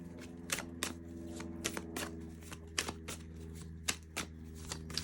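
Tarot cards are shuffled in quick, crisp riffles and soft slaps, repeated at an irregular pace close to the microphone over a faint steady hum, with no talking.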